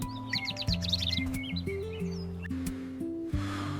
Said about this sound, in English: Listen to the birds. They sound so happy this peaceful morning.